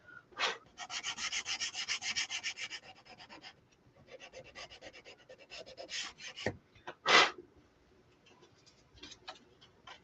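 The edge of a small car charm sign made with silkscreen and torch paste is sanded by hand in close, dry rasping strokes. The strokes come in rhythmic bursts, then sparser rubs, with a few sharper scrapes and taps.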